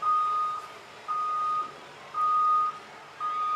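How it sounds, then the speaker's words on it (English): A bus reversing near a high school baseball field, its backup alarm giving four evenly spaced, sustained electronic beeps over a quiet outdoor background. "we can hear every move that bus makes."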